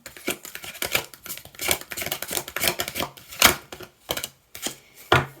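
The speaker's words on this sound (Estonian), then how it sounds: "Või suured kaardid, laske segada." Tarot cards are shuffled by hand in a series of close, crisp riffling and slapping bursts, irregular in rhythm with short pauses between them, with no talking.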